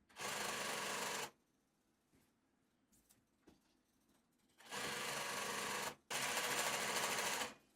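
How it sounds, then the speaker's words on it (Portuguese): A sewing machine stitches the elastic waistband of a pair of shorts in two bursts, a loud steady whir for about a second, then a pause with faint handling noises, then running again for roughly three seconds, close up. "Vou iniciar minha costura a partir da marcação que a gente fez."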